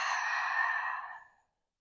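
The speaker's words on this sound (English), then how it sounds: "Take a slow, smooth breath in and smooth breath out." A single slow, smooth exhale during a yoga flow, soft and airy, close to the mic, fading out after about a second and a half into silence.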